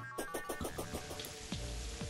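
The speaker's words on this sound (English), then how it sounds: "It started raining right before dawn" Rain falling in Terraria, a steady, dense patter of drops hissing across the full range, with a few sharper splashes standing out, close and continuous with no talking.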